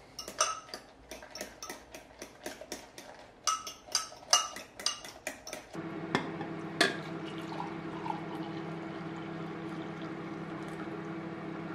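Eggs are whisked in a bowl with fast rhythmic clicking taps of the whisk against the bowl for about six seconds, then a softer steady swirl with a faint background hum, close by.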